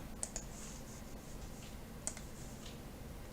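A few sharp computer mouse clicks, spaced apart, close and fairly faint over a steady background hiss, during 3D modelling work on a textured brick wall for resin printing.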